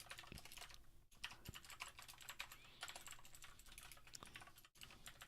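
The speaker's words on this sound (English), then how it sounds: "Just typing some random numbers there." Typing on a computer keyboard while writing C++ code, with a fast, steady patter of soft key clicks close by and no talk.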